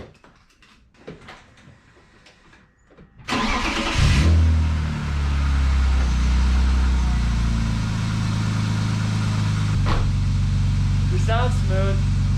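A BMW E36 engine cranks and catches after a few quiet seconds of shuffling, then settles into a loud, steady low idle that carries on to the end, with a few faint clicks and rattles over it.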